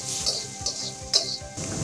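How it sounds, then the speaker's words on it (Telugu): Onions frying in a pan for an Andhra-style prawn fry, a steady close sizzle with a few light stirring clicks. "ఉల్లిపాయలు, ఉల్లిపాయలు వేగాలండి."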